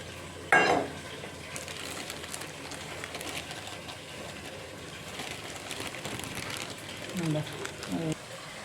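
Neypathal, a pressed flatbread of dough, fries in oil at a rolling boil with a steady crackling sizzle, close and moderately loud, while a person speaks briefly.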